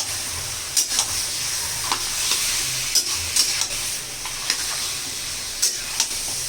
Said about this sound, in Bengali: মটন এখন কষা চলছে।